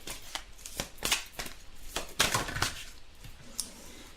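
Oracle cards riffle, slap and tap as a deck is shuffled and several cards spill out, giving a run of close, crisp, irregular snaps over quiet room tone, with no talking.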